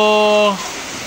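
Rain falling outdoors makes a steady, even hiss, with a brief tonal voice-like sound at the start before only the rain remains.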